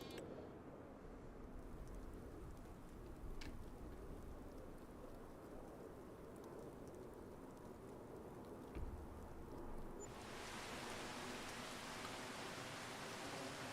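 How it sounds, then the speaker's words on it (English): Rain or hail falls steadily in the video game Farming Simulator 25, a soft, even hiss of drops that grows brighter and fuller near the end, with no voices. "Kind of hard to tell if that's rain or hail."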